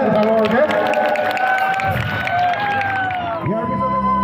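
Audience applause at a Puja festival gathering in Assam, a loud continuous clapping and cheering crowd over tonal music or singing, with babble running throughout.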